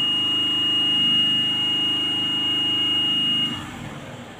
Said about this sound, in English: The buzzer is sounding now.